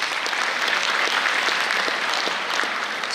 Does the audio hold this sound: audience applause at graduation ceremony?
yes